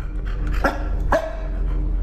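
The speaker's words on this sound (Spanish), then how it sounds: "Está ladrando el perro." A dog in a horror video game barks twice in quick succession, sharp and fairly close, over a steady low background hum.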